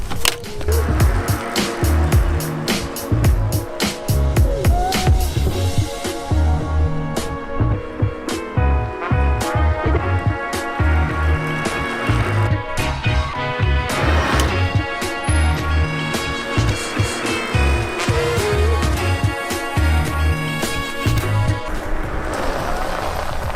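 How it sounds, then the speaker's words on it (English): A RadMini e-bike climbs hills under pedal assist, its motor whine and tonal hum steady throughout, with clattering rattles and road noise from the ride layered over it; no one speaks. "we're gonna see if this little RadMini can actually live up to its name and power me through the hills"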